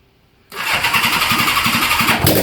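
A Honda Goldwing GL1200 motorcycle engine cranks and catches after a starter replacement, with its exhaust not yet hooked up, then settles into a loud, steady, throbbing idle close by, with no talk.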